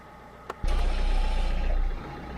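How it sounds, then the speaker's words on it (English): A Renault Scenic 3 with a seized electronic parking brake starts up: a click, then a short starter crank that catches into a steady, close idle hum, which settles slightly quieter after a couple of seconds. "let's try starting her up"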